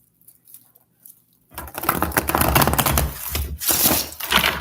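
A deck of tarot cards is shuffled by hand after a quiet start, giving close, dense papery riffling and patter that rises, pauses briefly and resumes, with no talk over it.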